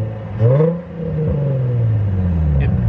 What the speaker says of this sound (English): It sounds like a stock car